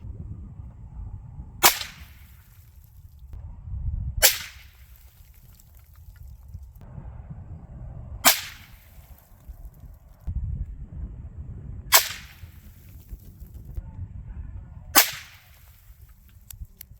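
Five sharp, loud rifle shots from a 7mm PRC being zeroed at 100 yards, spaced a few seconds apart, each a crisp crack with a short decay over low outdoor rumble.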